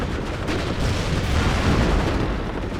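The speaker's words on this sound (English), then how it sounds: "See all the fire coming in around there." Incoming artillery fire in WARNO pounds continuously, with dense overlapping booms and rumbling explosions filling the whole stretch at steady loudness.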